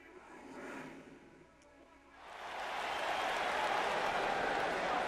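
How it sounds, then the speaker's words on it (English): Wrestling crowd in the WWE 2K19 video game swells from a quieter murmur into a steady, loud roar of cheering and applause that holds for the rest of the moment. "The crowd is buzzing with excitement."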